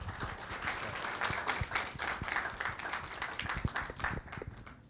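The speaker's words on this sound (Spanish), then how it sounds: "recibamos con un fuerte aplauso" An audience at a film festival talk applauds to welcome a speaker: a sustained, even roar of many clapping hands at moderate distance, with a few sharper individual claps standing out.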